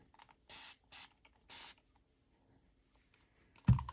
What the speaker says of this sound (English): We can get our water and spray.